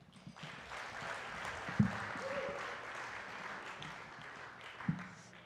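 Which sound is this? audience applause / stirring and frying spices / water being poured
audience applause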